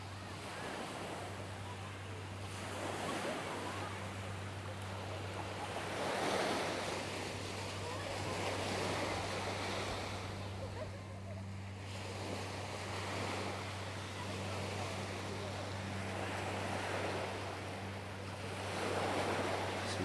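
Surf washing onto One Love Beach on Villingili island in the Maldives, waves swelling and receding every few seconds under steady wind, with a constant low boat-engine hum in the background and no talking.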